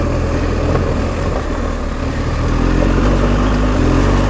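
A BMW R1250 GS Adventure motorbike engine runs steadily and loud on the Elan Valley tracks, with a continuous low drone and mild revving, no voices.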